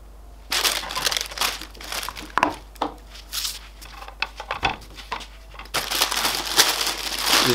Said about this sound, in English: This greaseproof paper stops the glue sticking.